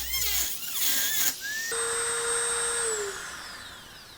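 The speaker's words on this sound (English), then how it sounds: "this part here is done with the cutoff wheel" A rotary tool's cutoff wheel grinds a narrow channel, giving a high, steady whine with shifting pitch after a rougher start, then slowly spinning down near the end.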